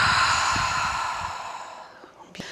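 Deep cleansing exhale during a guided tai chi relaxation session, a long soft breathy release that fades gradually, followed by a faint rustle near the end.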